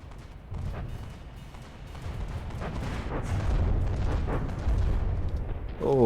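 Heavy explosions and booming weapon fire from the naval combat game From the Depths roll through the clip as a continuous rumbling barrage. The blasts swell louder toward the end.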